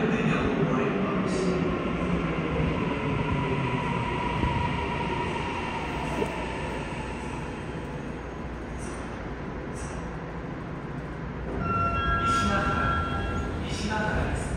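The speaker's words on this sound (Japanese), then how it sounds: "The express bound for 新横浜is arriving at track 2." A Tokyo Metro Namboku Line train rumbles into Nishigahara Station and slows with a steady low roar and rising brake hiss, station chimes and faint voices around it.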